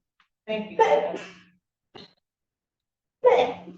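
A sudden sharp sneeze near the start in a courtroom, followed a few seconds later by a person speaking briefly.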